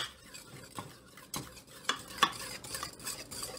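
A cornstarch-and-water mixture is stirred briskly into a pot of Peruvian purple corn pudding, mazamorra morada, with repeated scraping strokes and sharp spoon clicks against the pot.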